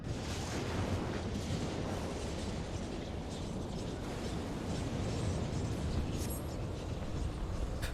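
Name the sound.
Ultima spell explosion in video game Final Fantasy 14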